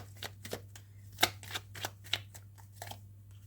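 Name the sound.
tarot cards being shuffled and drawn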